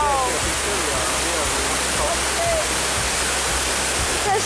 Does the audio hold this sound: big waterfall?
yes